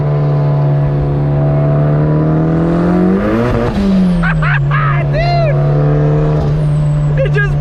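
A 400 hp turbocharged Mazda Miata built for about 20 psi of boost, accelerating hard from inside the car: a loud engine note climbs in pitch, drops at a shift, then holds steady under a brief shout.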